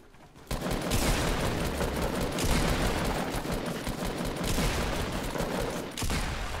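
Dense, continuous gunfire in the Fortnite video game, a loud unbroken barrage with brief dips, sustained for several seconds.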